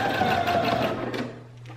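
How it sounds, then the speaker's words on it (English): A sewing machine running a zigzag stitch back and forth, a fast close mechanical whirring with steady rapid needle clatter that slows slightly near the end. "And I'm gonna do a zigzag stitch."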